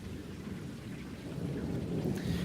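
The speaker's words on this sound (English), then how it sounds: "It just started downpouring, like everywhere." Heavy rain pours down in a sudden evening downpour, a dense steady hiss of drops on surfaces that swells slightly louder toward the end, heard alone without voices.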